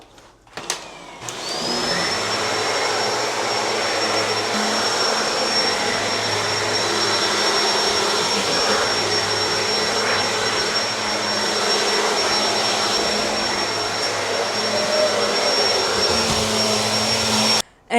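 A Shark vacuum cleaner in an apartment switches on and runs with a steady, loud motor roar and a high whine, continuing without a break until it shuts off abruptly at the end; no one speaks.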